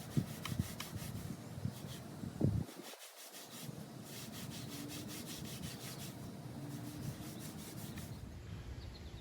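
Wood ashes are rubbed by hand into 100% cotton denim, front and back, making a soft, steady, close scrubbing sound with a brief louder scuff.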